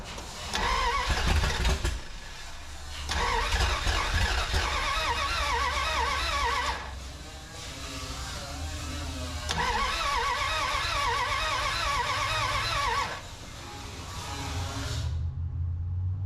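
A 1981 Dodge D150 pickup engine cranks in repeated bursts, each several seconds long, then fires and idles roughly, close up, with pauses between attempts and a quieter rumble at the end.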